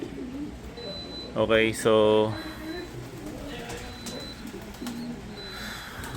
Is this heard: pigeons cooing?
yes